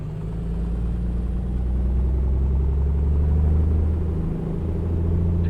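Simulated Piper Comanche 250 engine run-up in Microsoft Flight Simulator, a steady low piston drone with a slight swell in pitch and volume, continuous and close, with no talking.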